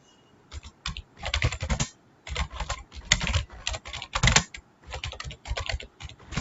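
Typing on a computer keyboard: close, crisp keystrokes in quick irregular bursts, separated by short pauses, with no voices.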